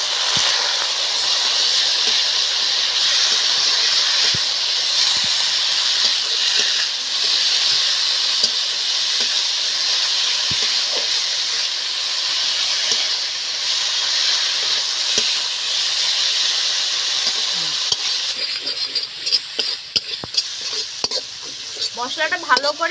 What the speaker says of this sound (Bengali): কাটা টমেটোগুলো দিয়ে দিচ্ছি